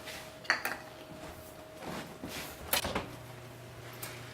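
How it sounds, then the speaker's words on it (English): Metal tray of caramel corn slid into a home oven, with a few clanks of pan and rack plus a door thud, moderately close and without talk. "let's put this in the oven."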